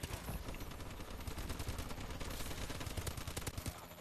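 Dense, continuous automatic gunfire from Call of Duty: Advanced Warfare multiplayer, rapid bursts overlapping without pause, loud and busy with no voices.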